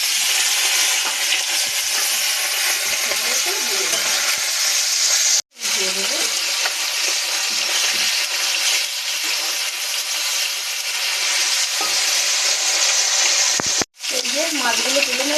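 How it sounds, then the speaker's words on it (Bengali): Bele fish coated in salt and turmeric fry in hot oil with a loud, continuous sizzle and crackle close by, with a short spoken phrase briefly heard. "এবারে কিন্তু মাছটা ভাজাভাজির পালা।"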